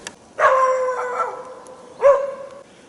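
Near a river with beavers during spring fishing, a dog gives two loud, drawn-out howling barks about a second and a half apart, the first one stretched and wavering.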